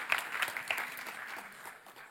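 Church congregation applauds during a French-language Christian service, a short burst of scattered clapping that starts sharp and fades within about two seconds.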